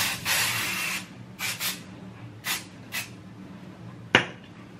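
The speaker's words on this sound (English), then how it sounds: "I'm just gonna spray a little bit more on my hairline, and then underneath here and on the ends of my hair." Several short hissing bursts of hair product spray, some longer and some quick puffs, close by, followed by a sharp click.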